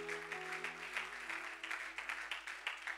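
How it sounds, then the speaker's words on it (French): A church congregation applauds for the Lord during a French-language sermon, with a steady, fairly faint wash of rhythmic clapping over a sustained low musical tone. "Est-ce qu'on peut acclamer pour le Seigneur?"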